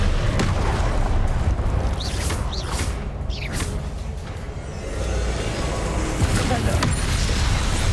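Confringo fire spells blasting in Hogwarts Legacy combat: a loud, continuous barrage of rumbling booms and crackling bursts, with voices heard through the din.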